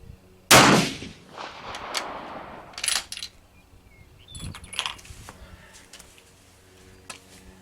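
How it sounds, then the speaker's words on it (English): A gunshot fired at a target at an outdoor shooting range: one loud, sharp, nearby blast with a ringing tail, followed by softer scattered clinks and taps. "I'm going to shoot at the two red dots on the left side of the center bullseye"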